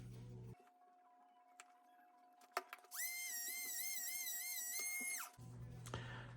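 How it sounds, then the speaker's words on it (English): A Dremel rotary tool spinning a small burnisher wheel against a leather edge gives a steady high whine with a wavering pitch for about two and a half seconds. It sits between quieter workshop ticks and clicks, with no talking. "I'm gonna cheat and use my Dremel with a little burnisher wheel"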